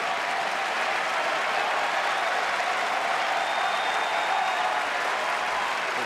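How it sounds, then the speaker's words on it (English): A large arena crowd at an NXT TakeOver wrestling event in New York applauds after a tag team match, a dense, continuous wash of clapping and crowd noise that holds steady and loud throughout. "The applause speaks for itself"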